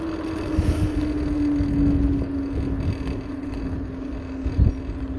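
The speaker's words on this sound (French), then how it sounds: "Là j'utilise le frein moteur, comme ça j'abîme pas trop la..." A T108PRO motorbike on a forest ride engine-brakes with a steady, droning engine note, heard close up under rushing wind buffeting the microphone and a few low thumps.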